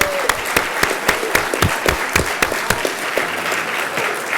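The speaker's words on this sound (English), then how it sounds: "So let's give them again another round of applause." Applause at an educational foundation awards ceremony, a room of people clapping with sharp individual claps standing out in a fairly regular rhythm, steady and close for several seconds.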